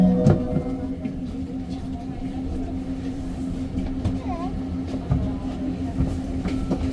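An REM train on the Deux-Montagnes Branch rolls along the rails from inside the car, a quiet steady rumble with a persistent low hum and occasional soft clicks and squeals.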